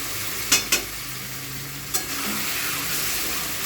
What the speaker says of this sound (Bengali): এই যে এবার তোমার দাদাভাই ভালো করে কষিয়ে নিচ্ছে মটনটাকে।